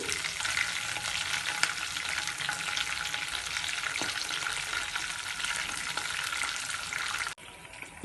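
Curry leaves, green chilies and chopped ginger hitting hot oil with fried dals for tempering, a loud, steady close sizzle that cuts off abruptly near the end, no voices.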